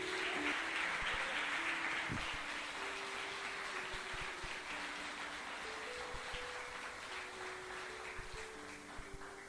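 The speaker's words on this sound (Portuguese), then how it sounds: "Dá uma salva de palmas para Jesus." Church congregation clapping together in a sustained wash of applause that fills the room steadily, with a faint voice and some tonal music underneath, fading slightly toward the end.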